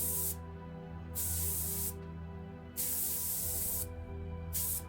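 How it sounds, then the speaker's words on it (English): Spray paint can hissing in the True Fear 3 game: three or four steady bursts of bright airy spray, each lasting under a second, over a constant low ambient hum with no talk. "Spray paint."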